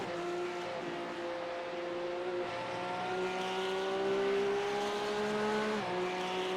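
Porsche Cup race car engines from the iRacing sim at Road America drone loudly and steadily, their pitch rising under acceleration and dropping sharply at a gearchange near the end, with tires faintly squealing.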